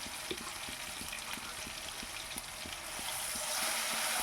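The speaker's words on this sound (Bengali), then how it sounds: "পেঁয়াজ বাটাটা দিয়ে ভালো করে একটু ফ্রাই করে নিতে হবে" Onion paste fries in a pan for a Bhetki fish dish, making a continuous bright sizzling hiss with small, scattered crackles and pops that swell slightly toward the end.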